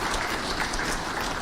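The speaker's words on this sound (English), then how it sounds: "please clap for yourselves." An audience applauds at a nuclear power and energy strategic plan launch event, giving a short, dense burst of clapping that stays even and fills the room without a break.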